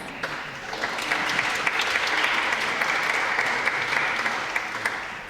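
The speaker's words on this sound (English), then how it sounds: "Give yourselves a round of applause" An afternoon concert audience claps at the close of a ProMusica live performance, a full, even wash of applause that swells slightly in the middle and holds steady for several seconds.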